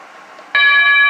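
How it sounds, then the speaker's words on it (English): A Hampton Bay wireless doorbell sounds its short tone, a single bright electronic ding that starts abruptly after a quiet moment and rings on steadily, loud and close. "Got that short one, which is nice. Sounds like an old doorbell."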